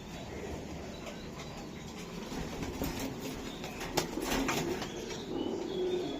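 Budapest pigeons at a breeder's loft, with a steady bed of soft cooing and rustling, brief wing flaps and a sharp clatter near the middle, and a faint distant rumble running underneath throughout.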